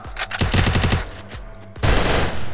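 Automatic gunfire in a PC shooter game comes as rapid, close rattling bursts, one quick string of shots followed by a second loud burst.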